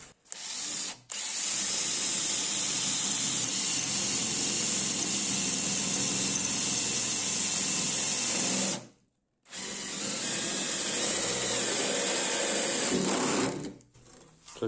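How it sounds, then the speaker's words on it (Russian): A power drill whines steadily as it bores into armor steel plate, with a brief pause near the start and a longer gap before it resumes, loud and close. "И причем это делаю дрелью"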